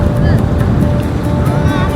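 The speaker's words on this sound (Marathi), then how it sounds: "समुद्राचं पाणी वाढतंय" Sea waves roll in at Haji Ali Dargah in Mumbai with a loud, constant low rumble, heavily buffeted by wind on the microphone.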